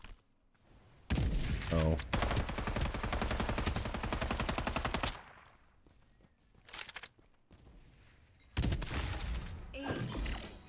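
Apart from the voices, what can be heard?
gunfire in a video game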